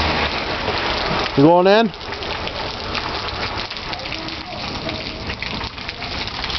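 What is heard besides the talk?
rain falling outdoors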